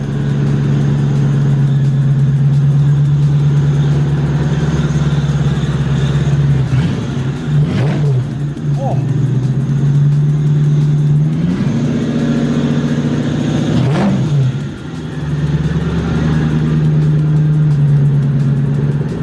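A Lexus LS 400 engine idles with a steady low rumble, rising into a couple of brief revs before settling back, loud and close with no talking.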